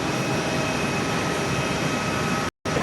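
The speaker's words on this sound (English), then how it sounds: "737-800 coming in to land on 24" A Qantas Boeing 737-800 airliner comes in to land on runway 24 at Perth, heard from an indoor viewing area as a steady, loud jet engine roar that fills the whole stretch, with a brief dropout near the end.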